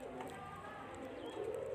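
A pigeon coos softly up close, its low throaty call rising toward the end over faint background noise, with no clear speech.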